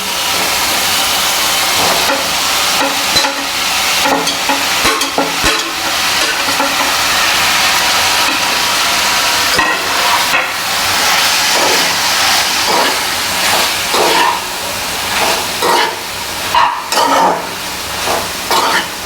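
Disano pasta is stirred into frying masala in a pan, a loud, continuous sizzle and hiss punctuated by repeated scraping strokes of a spoon against the pan.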